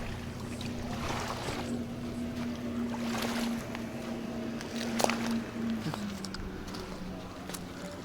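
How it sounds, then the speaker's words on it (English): A boat's engine drones steadily at low pitch, its tone sliding slightly as it passes at a distance, with wind and water noise around it. "There's a boat coming in."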